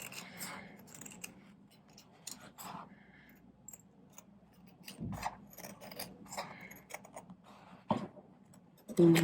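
Scissors snipping through fabric while sewing a Christmas stocking, a series of short, close, quiet cuts at irregular intervals, with faint low background hum.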